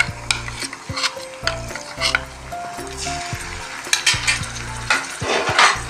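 Garlic-ginger paste frying with onions in a pan, a steady sizzle under repeated scraping and stirring strokes of a utensil against the metal, close and fairly loud with no talking.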